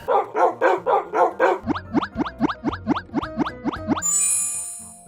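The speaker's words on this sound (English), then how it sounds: "Even if he does bark over and over and over if you aren't there to walk him at 5 o'clock sharp." A small dog barks in a rapid, steady series of about a dozen loud, close yips, first rough then more tonal, followed by a bright ringing chime at the end.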